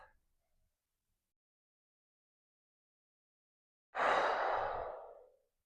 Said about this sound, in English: I was breathing in through my nose and then exhaling through my mouth